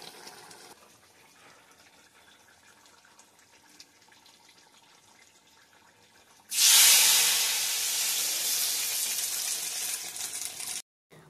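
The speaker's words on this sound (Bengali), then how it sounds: "এরপর চিকেনটা সাতুলে নেব।" Chicken hitting a hot pan with panch phoron and dried chillies, a loud sudden hissing sizzle that bursts in partway through and holds steady until it cuts off near the end, after quiet kitchen background.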